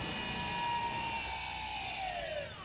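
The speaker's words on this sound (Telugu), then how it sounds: "మోటార్ అనేది ఆగిపోతుంది." A drone's brushless motor on a Naza v1 ESC setup whines steadily, its tones gliding downward as the throttle is eased off and the motor winds down, clear and alone.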